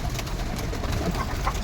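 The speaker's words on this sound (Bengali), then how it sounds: "কি কবুতরের নাম এটা ভাই? জ্যাকোবিন।" Jacobin pigeons cooing in a loft, soft low throaty coos that keep going under a steady background hum, moderately near, with no speech.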